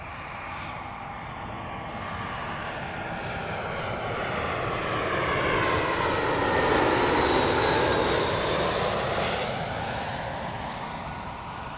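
A British Airways airliner arrives at London Gatwick Airport, its engine roar swelling steadily from distant to loud overhead and then easing slightly, with no talk.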